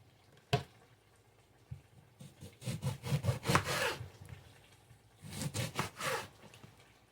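A knife cuts a lemon into four pieces on a board, with a sharp initial chop followed by several rough, sawing slices in two clustered bursts, close and fairly quiet.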